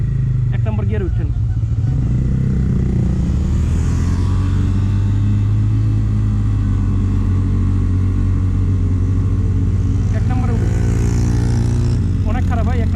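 A motorcycle engine labors in first gear up a rough, steep road toward Boga Lake in Bandarban, a loud steady low drone running throughout, with riders talking over it.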